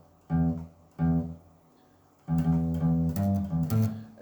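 Slow bass-register guitar riff: two short plucked phrases, a pause, then a longer run of picked notes, played alone at a deliberate tempo.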